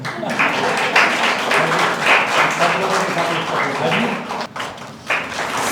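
Audience at a school event applauding loudly, a sustained dense roar of many hands clapping that dips briefly near the end.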